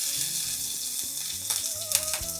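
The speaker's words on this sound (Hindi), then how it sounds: "पतरोड़े बनने के बाद इनको इस तरह से पीसेस में काटते हैं और फिर इनको करते हैं फ्राई" Pieces of patrode, a pahadi colocasia leaf snack, sizzle steadily in hot oil, a bright continuous crackle with a few brief clinks and stirring sounds over faint tonal music.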